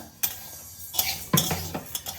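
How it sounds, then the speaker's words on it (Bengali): Mung dal dry-roasting in a pan without oil, with a few sharp scrapes and clinks of a spatula stirring the grains, close and without any talk. "মুগ ডালটা শুকনো খোলাই আমি ভেজে নেব এতে কোনো তেল বা ঘি কিছুই আমি দেব না"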